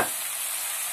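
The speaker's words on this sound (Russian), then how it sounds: "В разогретое масло я перекладываю лук, а также морковь." Chopped onion and carrot hit hot vegetable oil in a pan, giving a loud, continuous hiss of frying for a short moment with no pause.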